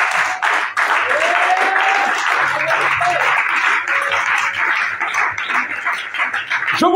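A church congregation applauding to acclaim the Lord, sustained loud clapping filling the room, with cheering voices and a few sustained tones rising through it.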